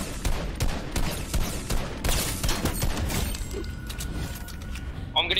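Rapid bursts of gunfire crackle through an online shooter arena match, sharp repeated shots in quick succession mixed with game effects, fairly faint and continuous over several seconds while players talk.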